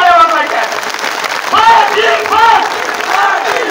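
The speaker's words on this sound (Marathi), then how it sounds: "आपण जोरदार टाळ्यांनी दादांचं स्वागत करायचंय. प्रचंड टाळ्या" Crowd applause greets a speaker at a large outdoor rally at Narayangad, steady dense clapping and cheering throughout, with a voice calling out over the crowd in places.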